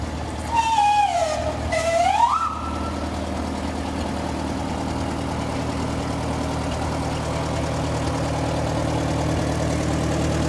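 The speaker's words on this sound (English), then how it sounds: "Here we have a Massey Harris tractor." A Massey Harris tractor at a small-town parade in St. Henry, Indiana, its engine idling steadily with a low, continuous rumble, briefly accompanied near the start by a rising and falling whistle-like tone.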